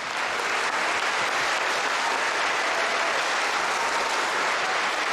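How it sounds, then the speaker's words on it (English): Steady, dense applause from a large crowd at an elementary school Veterans Day program fills the whole stretch, loud and continuous without a break. "Give them a round of applause."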